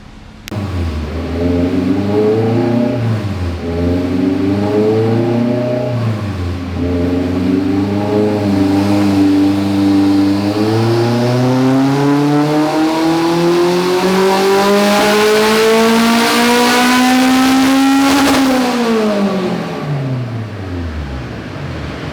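A turbocharged B Series hatchback engine that runs poorly and leaks oil, idling rough, then revving loud and close in a long climb to a high peak before falling back.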